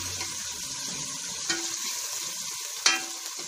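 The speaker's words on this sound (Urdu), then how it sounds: "اب ان کو ہم تھوڑی دیر بھونیں گے" Potatoes and black chickpeas fry steadily in a pan with a soft continuous sizzle, broken by two brief sharper clatters from stirring. No voices are present.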